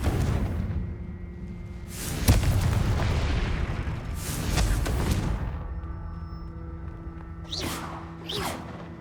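Confringo blasting spells from Hogwarts Legacy erupt as a series of loud booming explosions with whooshing bursts, several heavy blasts spaced across the span over a steady rumbling game background.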